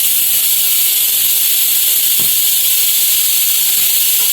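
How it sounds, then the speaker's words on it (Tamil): A pressure cooker whistle vents steam in a kitchen as a loud, steady hiss that continues unbroken throughout, close up and without speech. "அதுக்குள்ள இதுக்கு விசில எடுத்து விட்டுடலாம்"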